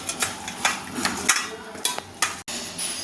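Soaked white and black mustard seeds, a little poppy seed and green chillies being ground, giving irregular scraping knocks and clicks that recur every fraction of a second, close and moderately loud with no talking.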